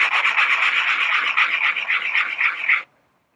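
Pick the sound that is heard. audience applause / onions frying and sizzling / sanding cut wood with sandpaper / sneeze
sanding cut wood with sandpaper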